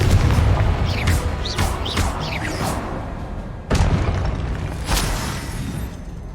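In Hogwarts Legacy, a Confringo fire spell sets off a series of heavy booming explosions, several rapid blasts followed by a sharp loud crash and rumbling tails.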